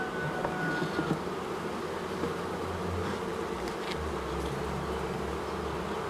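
A ten-day-old bee swarm settled in a tree hollow drones with a steady, dense buzzing that holds throughout, close and continuous, with no voices.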